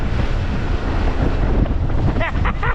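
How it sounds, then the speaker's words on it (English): Strong wind roars and buffets the microphone continuously, loud and close, with a faint voice briefly near the end. "it is bloody windy right now."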